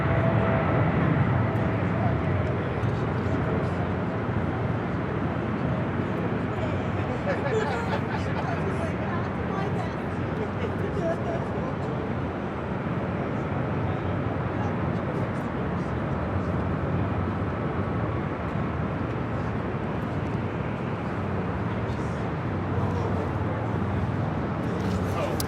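A heavy airliner taking off from runway 25 right at LAX, a broad steady jet roar held loud and near for the whole stretch, with voices talking over it.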